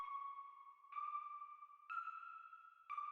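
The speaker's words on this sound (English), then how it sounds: "I'm gonna throw these on the mixer because I think this bell would benefit from some reverb." Synth bell in FL Studio drenched in reverb, playing four sustained bright tones in a row, each new note struck about once a second and ringing into the next.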